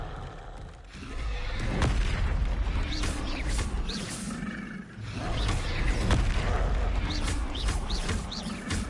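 A Confringo spell explodes in a Hogwarts video game with a loud, rumbling roar and boom, layered with whooshing magical effects and swelling again midway.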